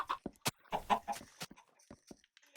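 Chickens on a Minecraft-style survival game farm cluck in several short, close bursts with gaps between them, the calls alone with no talk.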